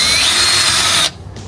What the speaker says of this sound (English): maybe a drill bit would work too